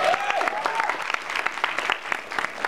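A convention Q&A audience claps for Scott in a lively burst of individual hand claps, fairly close and uneven, with a faint voice briefly heard at the start.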